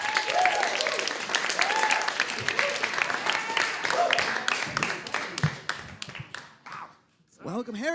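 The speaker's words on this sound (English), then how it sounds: "Put your hands together." Studio audience applauding and cheering as a talk-show guest walks on, a steady wash of clapping with whoops that thins out toward the end, with a host's voice under it.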